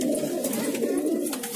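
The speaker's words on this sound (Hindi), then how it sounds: "ये देखो भाई ये कबूतर है मक्सी" A pigeon held up for sale at a Delhi market coos in a low, continuous throaty rumble, close and fairly loud, with faint background chatter.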